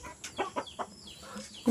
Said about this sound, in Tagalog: Dito yung mga manok mga kabayan.